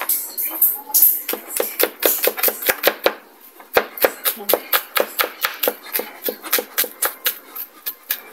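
Garlic being chopped with a knife on a board, a fast run of sharp, evenly spaced cutting knocks close up, with short pauses between bursts.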